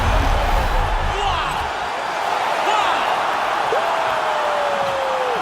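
Arena crowd in UFC 4 roaring and cheering after a knockout, a broad wash of noise that starts loud with heavy thumps and settles into a sustained din.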